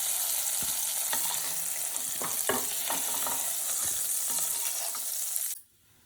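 Brinjal sizzles steadily in hot oil, with soft clinks of stirring scattered through, until the frying sound cuts off abruptly near the end.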